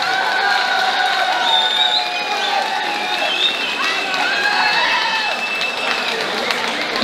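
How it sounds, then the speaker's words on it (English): A crowd at a boxing match applauds and cheers the two boxers after the bout, a loud continuous roar of clapping mixed with shouts and whistles, with voices calling out over the noise throughout. "So let's give them a huge round of applause."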